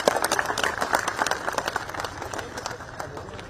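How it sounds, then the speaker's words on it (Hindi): A crowd claps at a public foundation function where a Congress MLA is chief guest. Dense, steady clapping runs throughout and slowly fades, with faint voices underneath. "गोटे जोरदार ताली"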